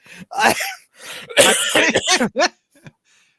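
A voice coughs and clears its throat in a quick series of harsh bursts, close and loud, trailing off into silence.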